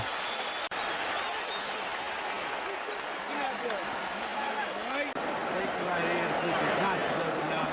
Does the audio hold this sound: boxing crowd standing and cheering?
yes